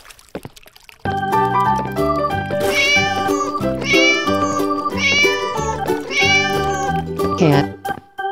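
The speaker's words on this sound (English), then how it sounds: "Cat." A cartoon cat meows in several drawn-out, tuneful calls over steady background music, close and clear, with a short cry at the end.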